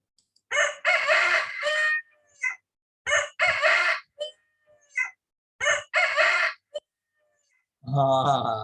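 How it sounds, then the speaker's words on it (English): A rooster crows loudly and nearby, three full calls in a row with brief pauses, then another cluck-like call begins. "You hear the cock or the cockerel or the rooster crowing"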